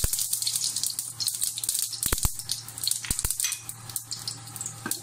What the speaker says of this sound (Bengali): শুকনো মরিচ দিলাম, জিরাটা দিয়ে দিলাম, একটু ফুটবে